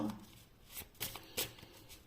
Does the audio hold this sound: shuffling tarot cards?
yes